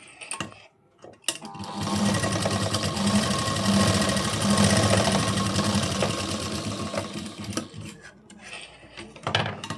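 Sewing machine stitching a katori blouse, a fast continuous whirring needle run of about seven seconds that swells and fades, framed by a few sharp clicks and handling knocks at either end.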